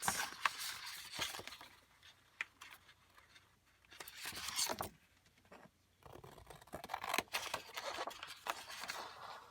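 Crisp snipping and rustling of paper in several short bursts, close by, with quiet pauses between cuts.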